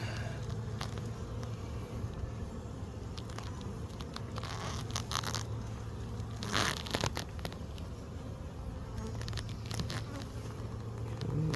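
Honey bees buzz steadily during a hive inspection, a dense close drone of many wings with occasional brief rustles and knocks from frames being handled.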